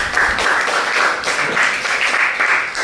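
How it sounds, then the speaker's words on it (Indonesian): Students in a junior high classroom clap together in a brief, steady burst of applause, close and fairly loud, with no talking over it. "Beri tepuk tangan."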